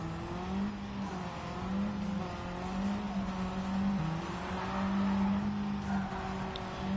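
A race car engine in Gran Turismo 7 drones steadily with a rough, slightly unhealthy tone, its revs wavering as it runs continuously at speed.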